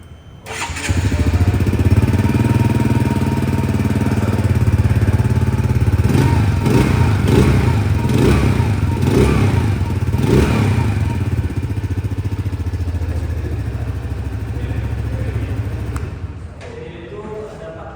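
A Wmoto Forter 125 motorcycle engine cranks and catches, then settles into a loud, close idle with a few throttle blips before it cuts off near the end.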